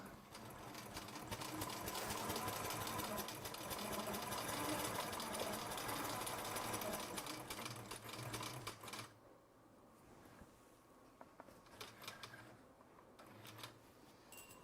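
Butler Robotics longarm quilting machine basting the sides of a quilt, a loud fast mechanical chatter for most of the time that drops to quieter intermittent ticking and clatter toward the end.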